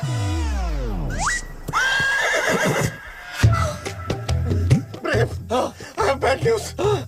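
Horse Toofan gives a loud, close whinny that rises and falls, followed by snorts and another shorter neigh, with clip-clop movement and busy background sounds between.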